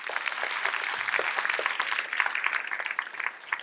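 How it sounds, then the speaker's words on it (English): An audience at a hospice sector update gives a sustained round of applause, dense steady clapping from many hands across the whole stretch, moderately loud with no talk over it. "Please give yourselves a huge round of applause."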